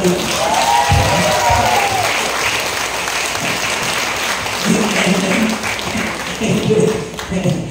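Sustained applause fills a church or sermon gathering, a dense wash of many hands clapping steadily and loudly throughout, with faint voices and crowd murmur underneath.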